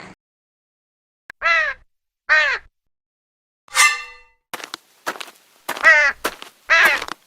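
Cartoon crow cawing several times in short, harsh calls, loud and close, with a few clanging ticks scattered among the caws.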